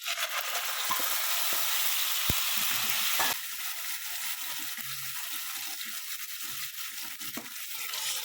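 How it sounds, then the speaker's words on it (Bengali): Tomato puree frying with whole spices in a pan, a broad steady sizzle with occasional stirring scrapes; the hiss drops somewhat partway through as the puree goes in, then continues evenly with light clinks. "30 সেকেন্ডের মতো নেড়ে চেড়ে নিয়ে এবার দিয়ে দিচ্ছি আমি টমেটো পিউরি।"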